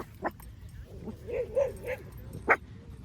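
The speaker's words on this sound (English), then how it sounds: "This is the big dog that scared Lily." A big dog gives a few short barks and whimpering yips at close range, spaced irregularly over a few seconds, with a louder yelp near the end.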